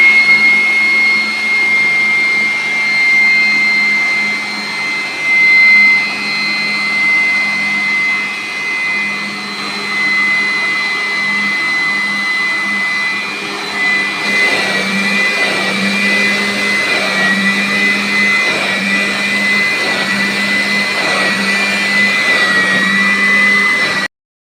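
A cleaning machine running steadily across a carpet to pull up dust, giving a continuous loud motor whine with a high tone and slight shifts in pitch as it moves, alone without talk.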